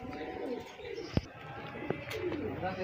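Soft cooing from pigeons nearby, low and murmuring, with a few brief knocks and light chirps in a quiet setting.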